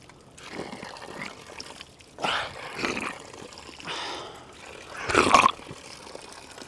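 Spring water trickles and splashes beside a Himalayan trail near Olangchung Gola in Taplejung, Nepal, in several uneven bursts of hissing flow, one louder near the end, with no voices.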